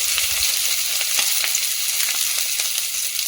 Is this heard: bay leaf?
yes